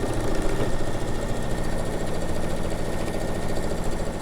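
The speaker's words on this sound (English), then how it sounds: "I just sewed those side seams up in the bottom again with that 1/2 inch seam allowance." A sewing machine stitches canvas tote bag seams with a loud, steady mechanical whirring drone that continues throughout, close by and without talk.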